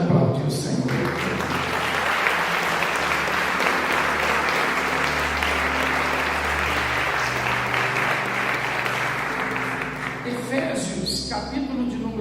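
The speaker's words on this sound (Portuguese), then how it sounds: "Pode aplaudir o Senhor." A church congregation applauds loudly and steadily for about twelve seconds, a dense wash of clapping with a low sustained tone beneath, fading slightly near the end.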